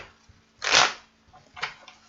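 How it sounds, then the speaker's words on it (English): A deck of cards is shuffled at close range: a loud riffling burst, a short pause, then a quieter second riffle, with no talking. "All right, one more shuffle."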